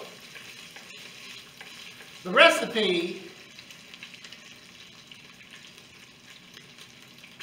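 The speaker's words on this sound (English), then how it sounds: "You can hear that bacon sizzling." Bacon sizzles quietly and constantly in a pressure cooker pot, with a brief spoken phrase rising over it near the start.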